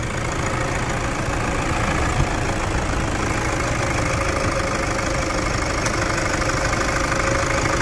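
Toyota Hilux diesel engine running steadily at idle, a loud, close, continuous rumble with a faint knocking texture and no clear rev rise, no talking over it.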